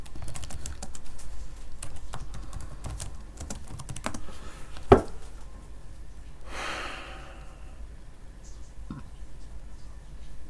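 Python code typed on a computer keyboard: a quick run of close, crisp key clicks that thins out midway. A single louder clack lands in the middle, and a soft breath or sigh comes afterward.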